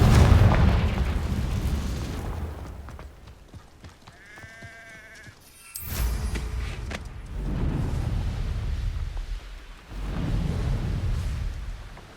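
A fiery spell explosion in the Hogwarts Legacy video game booms loudly, with rumbling blasts, sweeping magical whooshes and a bright burst in the middle of continuous combat noise.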